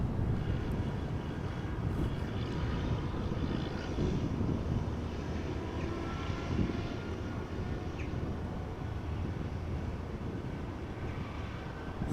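A Silk Way West Boeing 747 at Amsterdam Schiphol, its engines producing a continuous, moderately distant jet rumble that stays steady throughout with no voices.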